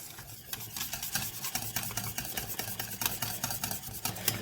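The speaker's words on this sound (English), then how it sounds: "And just keep whisking until you've got your smooth sauce." A sauce thickened with nutritional yeast and a pinch of salt is whisked steadily, a quick continuous scraping and tapping of the whisk against the pan, close and moderately loud with no talking.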